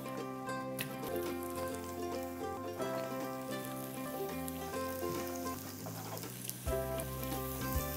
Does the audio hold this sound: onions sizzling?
yes